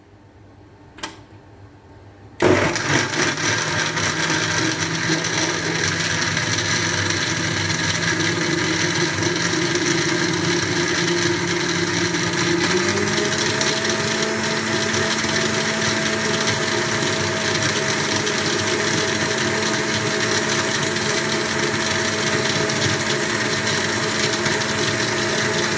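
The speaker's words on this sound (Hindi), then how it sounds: "बटन को ऑन करूँगी और अच्छे तरीके से इसको मैंने ब्लेंड करना है" An electric blender whirs steadily while blending a falsa fruit drink, starting abruptly after a moment of near silence and running loud and continuous, its motor pitch rising slightly partway through.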